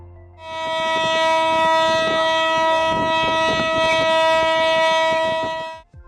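Emergency alarm on a drilling rig signalling a kick or blowout, a loud steady multi-tone horn blaring continuously for about five seconds before cutting off, with no voices.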